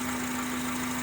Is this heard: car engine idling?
yes